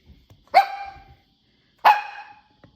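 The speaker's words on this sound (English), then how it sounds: "That's my puppy dog, and he's wondering who I'm talking to" A puppy dog barks twice indoors, two sharp, fairly close barks spaced over a second apart, with quiet room sound between them and no talking.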